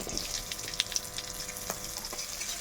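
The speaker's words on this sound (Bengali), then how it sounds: "এই রসুনটা একটু লাল লাল করে ভাজা হয়ে গেলে আমি পেঁয়াজটা দিয়ে দেবো" Garlic and onion fry in a pan for mixed vegetable chowmein, a steady close sizzle and crackle with a few small pops and light stirring throughout.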